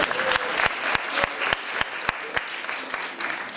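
An audience at a Polish cabaret show applauds loudly, a dense continuous clatter of many hands with a few sharp, prominent claps cutting through, and voices talking faintly beneath.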